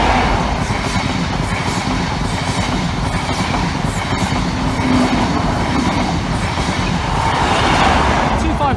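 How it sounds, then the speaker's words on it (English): A train rumbles steadily past at close range with a dense rolling wheel noise and scattered clicks and knocks from the rails, while someone talks briefly over it. "Oh, bye, Harry's trains."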